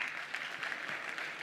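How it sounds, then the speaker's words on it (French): An audience at a French press forum applauds in a soft, steady patter of many hands, heard faint and distant for a brief moment. "Mesdames, messieurs, vous pouvez l'applaudir."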